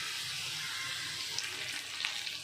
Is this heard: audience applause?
no